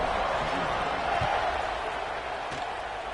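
Football stadium crowd in the early going of a game, a steady broad roar of cheering voices with a couple of faint thumps, heard from a distance throughout.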